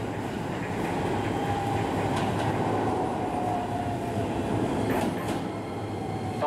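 A six-car Keisei Main Line train bound for Narita Airport pulls into Keisei Narita station late at night, with a loud, steady rolling rumble, clattering wheels and brief metallic squeals, heard alone without talk.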